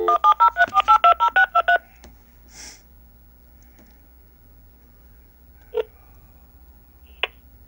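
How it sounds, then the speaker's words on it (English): Telephone dialing tones while placing a call: a quick run of about ten crisp DTMF beeps in steady rhythm, followed by near silence broken by a few faint clicks. "So now we're going to call 1-703-482-0623."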